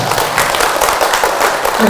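Audience applause at a meditation expo in Seoul, a short burst of dense, loud clapping from a crowd filling the moment, with faint voices underneath.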